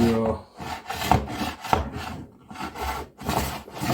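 Hand plane shaving a live edge cedar board, giving a series of broad rasping strokes about every half second to second, close and fairly loud with brief pauses between passes, no talk over it.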